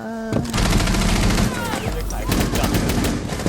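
Rapid video game gunfire, with dense bursts of automatic shots that run nearly continuously and loud, mixed with a speaking voice.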